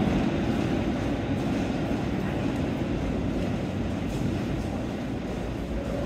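Constant rumble of a busy moving train from inside a carriage, approaching Newton Abbot, with low rolling noise and faint rhythmic rail clatter, steady throughout.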